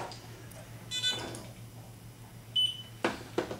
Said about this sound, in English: Hit the scan button, and as soon as it registers, it beeps.